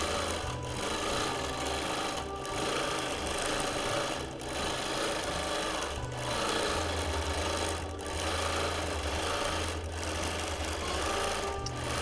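A longarm quilting machine stitches a feather design across a quilt with a steady, rapid needle hum, broken by regular short pauses about every two seconds as each pass is formed, close and without talk.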